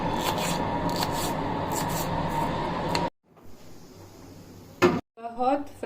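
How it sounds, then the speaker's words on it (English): Knife slicing a chili on a cutting board in a home kitchen while making Indian pumpkin stew: soft scraping cuts close by for about three seconds, followed by quiet clicks and a few short knocks. "I'm slicing a chili."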